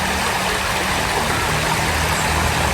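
A provincial river flows over rocks, giving a loud, continuous, close rushing sound with no voices.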